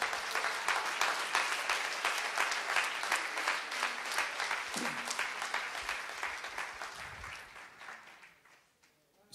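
A church congregation applauding during a Sunday service: steady, dense clapping from many hands, loud at first and gradually fading out near the end, with faint voices underneath.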